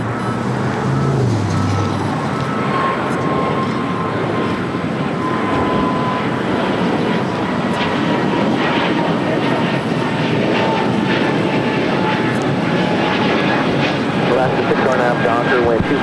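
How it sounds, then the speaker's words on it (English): A Breeze Airways Airbus A220-300 jet takes off, a steady, loud broadband engine roar with a slowly falling whine that holds for the whole stretch, with faint background voices at the start. "Breeze Airways taking off to Jacksonville on the A220-300"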